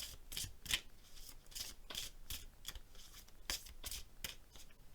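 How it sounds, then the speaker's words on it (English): Color Goddess casting cards shuffled by hand in a quiet room, a rapid series of soft papery riffles and flicks, close and fairly quiet, with no talking. "So let's see what we can get for you with my Color Goddess casting cards."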